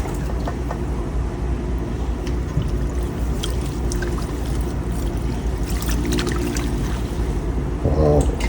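Very warm water pours and splashes steadily over long dreadlocks during a wash, a continuous close rushing trickle lasting several seconds with no clear talk over it.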